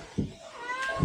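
A pet cat gives a couple of short, faint meows close by, separated by a brief pause in an otherwise quiet room.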